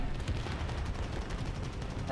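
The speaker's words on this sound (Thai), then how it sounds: "เสียงปืนกลกับเสียงปืนใหญ่" Dense, continuous rattle of rapid machine-gun fire with low booming cannon blasts mixed in during a War Thunder tank battle, loud and sustained throughout.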